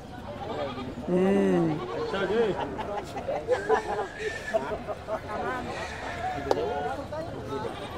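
Goats bleat at a livestock stockyard in Canlaon, a loud wavering call standing out over steady crowd chatter and background voices of buyers gathered around.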